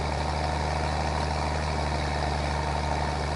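An older manual tractor engine in Farming Simulator 22 runs at a steady drone, a continuous low hum with a constant mechanical whine and no variation.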